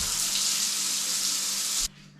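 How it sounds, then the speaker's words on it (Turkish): A shower tap runs in an old bathroom, releasing a loud, steady hiss of spraying water that cuts off abruptly near the end. "Şurası duş. Şöyle bir şeyle açıyorsunuz."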